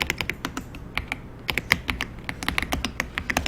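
Computer keyboard keys pressed during a basic computer skills class exam, including the Ctrl and down-arrow keys, in a quick, uneven run of sharp clicks close by with no talking.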